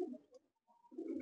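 A pigeon in a pigeon loft gives two short, soft coos separated by a brief pause, quiet and close.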